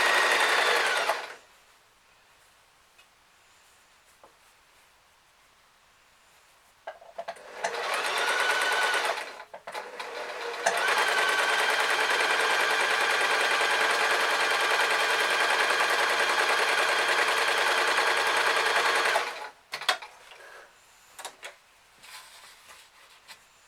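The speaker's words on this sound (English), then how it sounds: "So, nice and easy again, long straight sew." Sewing machine running a long straight seam on a fabric bag, a steady close whirring drone with one short burst, then a longer unbroken stretch of about nine seconds, with quiet gaps on either side.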